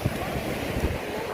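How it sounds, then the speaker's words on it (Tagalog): Sea waves wash in at Shek O beach in the dark, a short burst of rushing surf mixed with gusty wind buffeting the microphone. "naririnig niyo. Yung ano ng tubig."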